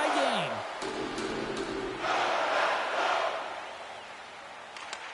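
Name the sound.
hockey arena crowd in the video game NHL 25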